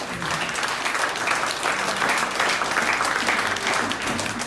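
Steady, dense applause from a church congregation after a woman's testimony of faith, continuous and full throughout with no voices rising above it.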